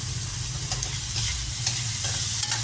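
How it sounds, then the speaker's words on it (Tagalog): Squash sautéing in a pan, a steady close sizzle with scraping stirs of a utensil against the pan, continuous and fairly loud with no talk. "Kasi igigisa ko na itong kalabasa"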